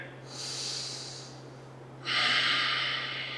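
Heavy, forceful breaths during a strength-focused yoga workout: a long exhale followed by a louder rushing inhale or exhale, close to the microphone over a faint steady hum.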